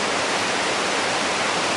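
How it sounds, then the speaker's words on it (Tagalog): A strong typhoon drives wind and rain in a loud, unbroken roar of hiss with no pauses. "Grabe, ang lakas ng bagyo."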